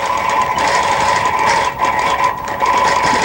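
A longarm quilting machine sewing micro stitches runs continuously, a loud steady mechanical whir with a strong hum and rapid needle chatter, briefly dipping twice, with no voices.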